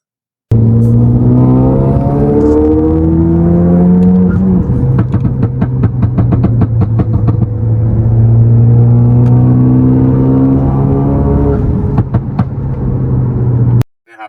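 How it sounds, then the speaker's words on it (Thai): A Mk3 Audi TT engine in dynamic mode revs past 3,000 rpm and climbs through gears, loud and close, with a rising whine and a throaty exhaust crackle over a steady roar. "เข้าโหมดไดนามิกนะ เสียงเปลี่ยนแล้วนะครับ เสียงเปลี่ยนรอบเปลี่ยนแล้วนะครับ รอบไปสามพันแล้วครับ"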